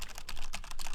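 Rapid, close-up clicking of keys on a computer keyboard, a steady run of crisp taps with brief pauses, heard alone.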